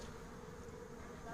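A honeybee swarm, gathered in a ball high up during a swarm collection in Montgeron, gives off a faint, continuous buzzing drone that holds steady throughout.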